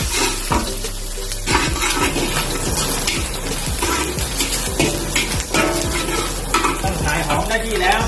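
Shallots stir-fried in a hot wok for pad thai: loud continuous sizzling and frying with rhythmic metal spatula scrapes and clanks against the pan, close and busy.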